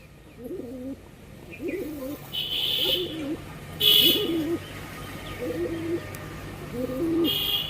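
Kalsira pigeons coo in a series of soft, repeated calls at a steady pace, with faint higher chirps and background noise between them.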